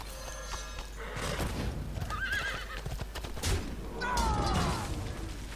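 A horse neighs in the Hearthstone card game, with several whinnying calls over game sound effects and clip-clop-like clatter, loud and close throughout.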